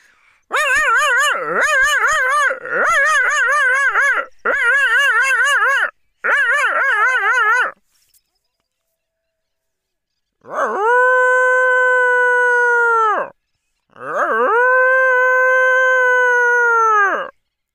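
Several dogs on an early-morning street bark in rapid, loud bursts for several seconds. After a short silence, two long, wavering howls follow nearby.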